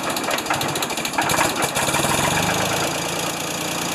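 An older Ford 2600 tractor engine runs steadily just after a cold start, a loud, close, rough mechanical chug with a faint knocking rhythm that holds through the whole stretch with no talk.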